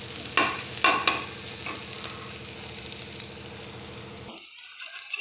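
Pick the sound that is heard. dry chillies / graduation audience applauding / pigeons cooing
dry chillies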